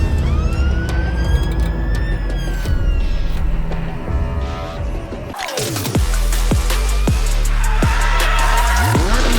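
Police van siren wailing close by and loud, a rising and falling electronic tone that shifts halfway into a rapid yelp pattern over traffic rumble.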